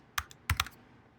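A few quick clicks of keys on a computer keyboard as a password is typed on a Mac, two short clusters of close, crisp taps over a quiet room.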